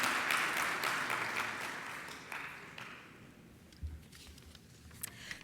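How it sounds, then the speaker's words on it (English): Conference attendees at a CFO event applaud a speaker, the clapping fairly quiet and thinning out over a few seconds until only scattered claps remain. "Let's all give Saad a big round of applause."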